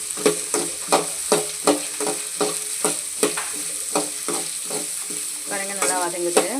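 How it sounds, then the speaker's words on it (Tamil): Curry leaves, green peas, carrot and beans sautéed in a pan for noodles: a steady sizzle broken by regular, rhythmic scrapes of a spatula stirring the vegetables, with a brief voice near the end. "பச்சை பட்டாணி, அப்புறம் கேரட், பீன்ஸ் சேர்த்துடலாம். நீங்கள் ஆனியன் கூட சேர்த்துக்கலாம். நல்லா அப்படியே வதக்கிடலாம்."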